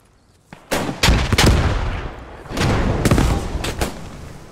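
Machine gun fire in the WWII shooter Post Scriptum: loud, close bursts of rapid shots in two clusters, a short break between them, and a longer rattling volley after.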